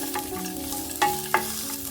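Ingredients frying and being stirred in a pan for a village-style spicy dish, with steady close sizzling, scraping stir strokes and two sharper clatters of the spoon against the pan, no voices.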